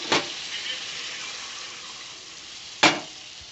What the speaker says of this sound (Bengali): দেখো মশলাটা কষানো হয়ে গেছে এবার জল দিয়ে দেবো